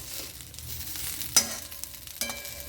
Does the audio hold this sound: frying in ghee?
yes